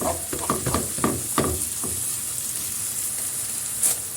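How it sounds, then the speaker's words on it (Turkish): Tomato paste and pepper sizzle steadily in a pan for a leek dish, a dense crackling hiss with a few soft stirring taps early on, close and fairly loud with no voices. "salçayla da beraber güzelce salçanın kokusu çıkıncaya kadar kavuruyorum"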